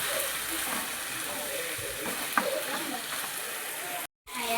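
A steady broadband sizzle of goat meat frying in a pan, continuous and fairly close, with brief stirring clinks and a short gap near the end.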